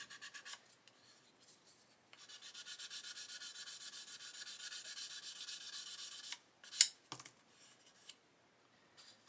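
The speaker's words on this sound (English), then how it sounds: "So we're going to carry on sanding until all of that shiny plastic disappears." Steady rhythmic rubbing of abrasive against a plastic model surface, a long run of quick back-and-forth strokes, close by, ending with a couple of small knocks.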